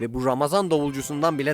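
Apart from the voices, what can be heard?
No everyday noise stands out behind the speech.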